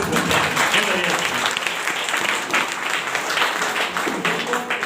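Audience applause at a motivational speech event, a full, sustained roar of clapping from a large crowd throughout, with some voices mixed faintly underneath.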